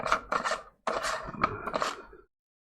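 The plastic battery cap on the bottom of a Harbor Freight pop-up lantern being unscrewed, giving a few short close rasping scrapes in quick bursts before stopping.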